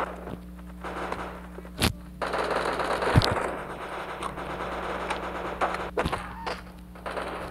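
Gunfire and movement in the Bullet Force shooter game: loud sharp shots and thuds stand out over rapid bursts and footstep-like scraping, close and continuous with no talk.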